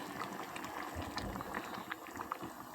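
Egg and lentil curry boiling in a pan, a steady bubbling simmer with small pops and gurgles, close and fairly soft, no talk.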